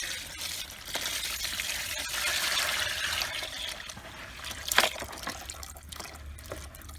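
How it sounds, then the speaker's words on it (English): Jaggery juice is poured and stirred into a mixture, a close trickling and splashing of liquid that swells in the middle, with a few clinks and sloshes toward the end. "in this I'm mixing this jaggery juice, or you can use the sugar cane juice as well"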